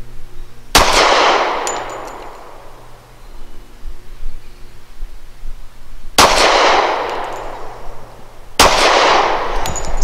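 Three loud close gunshots from a Citadel Warbird 1911 pistol loaded with SIG V Crown 185 grain ammunition, each crack followed by a long ringing decay, fired at uneven intervals with no talking.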